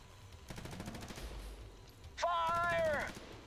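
Rapid bursts of gunfire in the sci-fi shooter USC Counterforce, a quick run of sharp shots followed by a second burst overlapping a loud warbling, sweeping tone.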